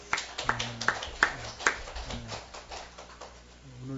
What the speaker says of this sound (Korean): 하나님 영광 박수 올리겠습니다